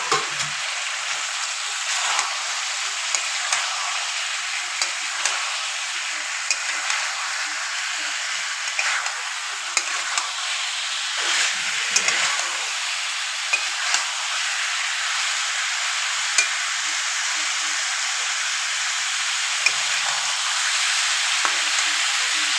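Potatoes and cauliflower for aloo phulkopi dalna frying in hot oil, giving a steady, close, loud sizzle with crackling that runs unbroken throughout.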